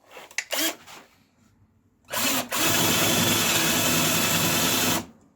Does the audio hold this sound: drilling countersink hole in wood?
yes